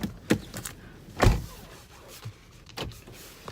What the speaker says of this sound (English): I always lock the doors when I get in the car.